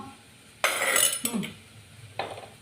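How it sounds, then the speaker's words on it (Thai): Catfish being stir-fried with chili in a pan, heard as a burst of metal utensil scraping and clinking against the pan, then a second shorter clatter, with no talk. "ก็ใส่น้ำมันแล้วค่ะ ปลาก็เป็นน้ำมันแล้ว"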